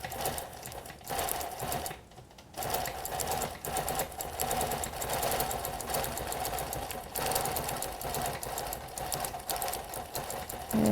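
A longarm quilting machine stitches curves around a Cinderella dress design, a close, steady rapid mechanical chatter that runs almost continuously with one brief pause.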